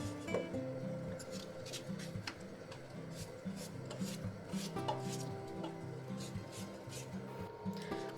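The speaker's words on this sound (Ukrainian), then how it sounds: "Кришимо картоплю на ну, такі середні бруски" A knife chops raw potatoes into medium bars on a board, with quiet repeated sharp taps spread through the clip under a voice talking.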